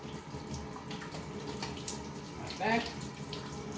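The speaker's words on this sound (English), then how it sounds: "Just give me a moment to quickly rinse my hands." Tap water runs into a kitchen sink as hands are rinsed during Swedish meatball cooking, a steady wash of splashing under light talk, with a brief brighter gush near the end.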